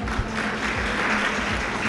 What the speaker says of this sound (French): Je demande vraiment à tout le monde d'applaudir ce monsieur.